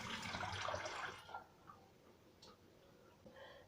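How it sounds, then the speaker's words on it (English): Kitchen faucet running as hands are rinsed, a loud rushing splash for about a second, then fading into faint drips and small taps in a quiet room. "Rinse my hands off."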